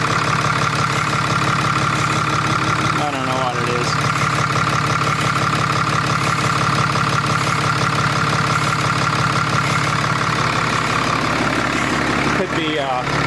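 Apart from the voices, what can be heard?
Ram Cummins 6.7 diesel truck engine idling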